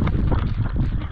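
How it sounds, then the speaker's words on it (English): Steady, loud wind buffeting with a dense rushing wash of pouring rain, heard on a canoe trail in the Great Glen, continuous throughout with no voices. "Pouring with rain and windy."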